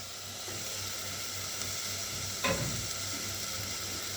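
Finely chopped onions fry in oil with a steady, dense sizzle and hiss, one brief stir scrape near the middle, close and with no talking.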